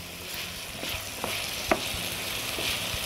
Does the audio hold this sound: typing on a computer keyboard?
no